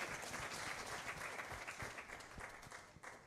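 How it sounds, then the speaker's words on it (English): Brief, dense applause from a conference audience at a waste management event, with steady clapping held at a moderate, even level throughout. "Let's give him another big round of applause."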